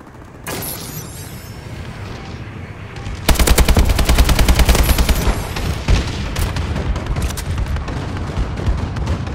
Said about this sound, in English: Friendly bombing run clearing the way.